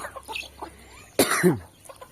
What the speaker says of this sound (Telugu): ఇప్పుడైతే మీ కోళ్ళకైతే మేత ఇస్తున్నాం